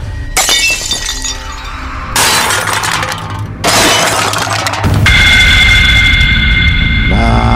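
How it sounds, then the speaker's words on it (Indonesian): Glass window panes shatter loudly in several separate crashes, each a burst of breaking and tinkling shards, ending with a ringing tone and low hum. "kembali ia dikejutkan dengan suara kaca jendela yang pecah"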